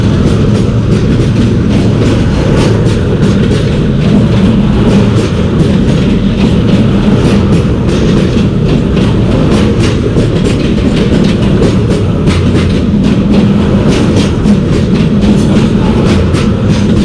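Pakistan Railways Mehr Express running on the ML2 line between Rawalpindi and Multan, a loud, steady rumble of a passing train with rhythmic clickety-clack of wheels over rail joints, continuous throughout with no talk.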